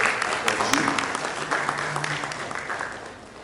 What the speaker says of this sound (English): It's a big round of applause for Mrs.